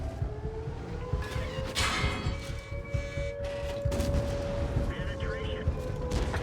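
A tank cannon fires HEAT shells in World of Tanks: heavy booms and blasts over a steady engine drone, with a faint tonal whine and a person talking at times.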